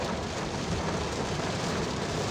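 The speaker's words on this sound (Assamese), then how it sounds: "এতিয়া বৰষুণ দিছে" Steady rain falls in a dense, even hiss, unbroken and fairly quiet throughout.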